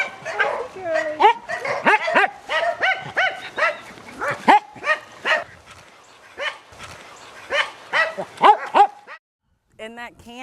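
Many dogs barking at a dog rescue, a busy chorus of overlapping barks, yips and whimpers, loud and close, continuing until it cuts off near the end, with barking resuming afterward.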